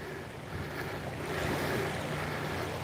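Wind blows across a lake while people fish from a boat, a steady rushing gust on the microphone with soft water lapping underneath, moderately quiet and continuous.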